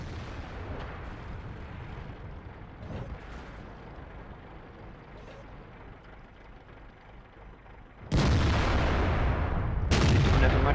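In World of Tanks, an Object 430 II tank gun fires at a building, two heavy booming blasts about two seconds apart, each with a rumbling tail, coming after a quieter stretch of background game noise.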